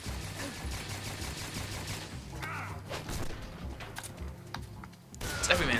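Gunfire aimed at Volgin in the stealth-action game Metal Gear Solid 3, a steady dense rattle of shots that persists throughout, with heavier bursts near the end. No voices.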